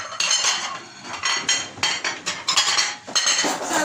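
Soup bowls and plates knock and clink together in a home kitchen while a meal is set out, with a quick run of sharp ceramic and cutlery clatters close by and no talk.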